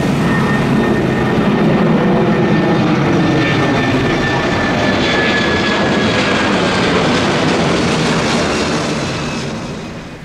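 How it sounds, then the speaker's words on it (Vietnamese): A Vietjet Air Airbus A330 takes off from the runway at Noi Bai airport, a loud, steady jet roar heard from nearby that holds throughout and begins to fade at the very end. "Đây là một chiếc Airbus A330 của hãng hàng không Vietjet Air."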